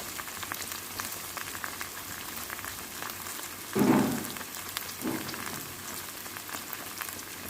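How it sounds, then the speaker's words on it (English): Saltfish frying in oil for Jamaican ackee and saltfish gives a steady soft sizzle and crackle, with a louder burst of spattering near the middle as more goes into the pan. "I like to fry my saltfish first, because it just makes it taste better to me."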